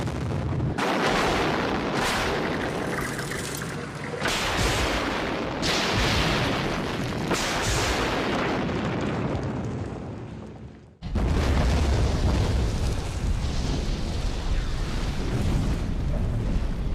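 Explosive demolition of a concrete tower block, a long, heavy roaring rumble of blasts and collapse that briefly drops away and then returns as a sustained loud crashing roar, distant but powerful.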